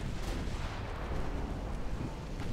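A torpedo strike in a naval warfare game plays out as a dense, continuous rumbling blast that fills the whole moment at moderate loudness, with no pauses and no voices.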